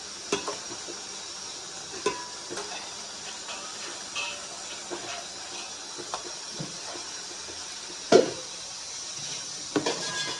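Mutton curry with masala fries in a pot, giving a soft continuous sizzle and hiss. Scattered scrapes and clinks of stirring come through, with one sharper knock near the end.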